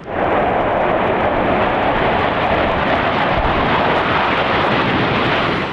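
MiG-29 fighter jets of the Strizhi aerobatic team roar overhead at a Krasnodar flight school display in a loud, continuous, broadband rumble that stays at full strength for several seconds.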